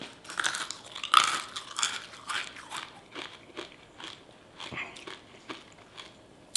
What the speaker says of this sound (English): It's almost like chewing a regular Skittle with nothing inside of it.